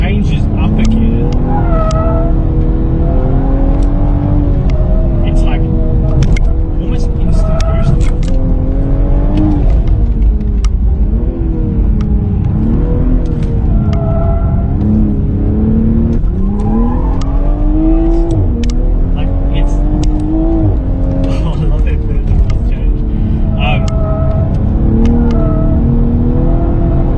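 A car fitted with a Pedal Commander PC10-BT throttle controller accelerates hard in sports mode. The engine note climbs and falls repeatedly through gear changes over a constant loud road and cabin roar.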